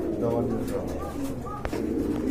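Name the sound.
Indian Bombay pigeons cooing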